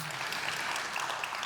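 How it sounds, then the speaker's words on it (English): Conference audience applause at a Spring I/O tech talk, a brief steady burst of many hands clapping filling the hall, fairly faint and even throughout. "Round of applause."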